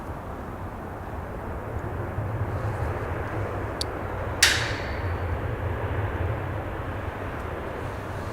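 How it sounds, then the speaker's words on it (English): An Airbus A320 arriving at Manchester Airport from Barcelona gives a steady, broad jet roar at moderate distance, holding even throughout with a brief sharp rise midway. "So just arrived from Barcelona, Airbus A320"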